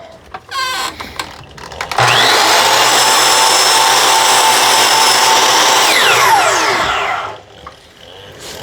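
A power saw cutting wood segments edgewise: a brief rattle, then the blade spins up and whines steadily through the stock for about five seconds before winding down, loud and close with no talking.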